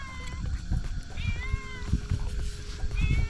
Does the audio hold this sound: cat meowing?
yes